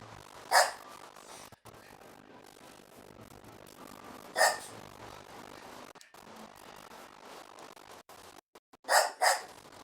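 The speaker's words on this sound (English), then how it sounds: "Why are you barking so?" A dog barks in sparse bursts, a single bark, another after a few seconds, then two quick barks near the end, over faint background noise.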